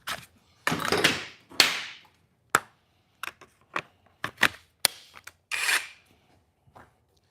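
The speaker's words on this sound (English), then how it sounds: "Let's get the saw." Hand saw cutting in a shop while building a mini chopper bike, a series of irregular rasping strokes, some long and some short, separated by quiet pauses.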